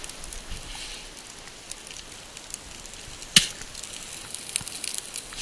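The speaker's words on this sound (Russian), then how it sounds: "Костёр у нас!" A campfire of damp wood crackles in the rain outdoors, with soft hissing and scattered sharp pops, one louder snap midway and another at the end, over a constant patter of rain.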